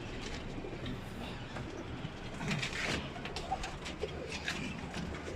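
A pigeon coos faintly amid a dense, rumbling background that sounds like a train, with a few brief louder knocks toward the end and no talk.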